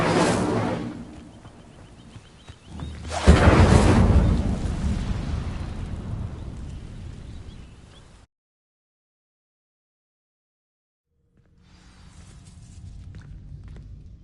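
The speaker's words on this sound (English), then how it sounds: "These dry vines are one spark away from becoming kindling. Incendio!" An Incendio fire spell in Hogwarts Legacy sets dry vines alight with a sudden loud burst, then a long roaring crackle of flames that fades into silence before quieter fizzing returns.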